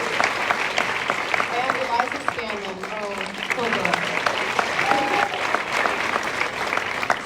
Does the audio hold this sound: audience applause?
yes